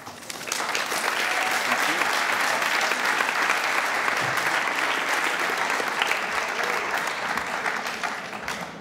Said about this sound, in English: I'd like to give one more round of applause to our graduates.